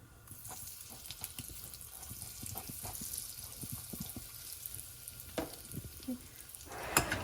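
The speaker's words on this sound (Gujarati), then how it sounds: "આપણે એમાં તજપત્તું, 1 સિનેમન સ્ટિક નાખીશું અને હિંગ નાખીશું" Cinnamon stick and asafoetida crackle in hot oil for palak paneer, a faint, steady hiss dotted with small pops and light ticks, then a sharper clatter near the end; no voices.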